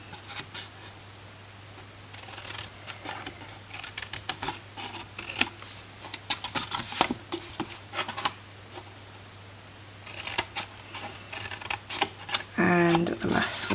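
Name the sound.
cutting and notching card corners for gift box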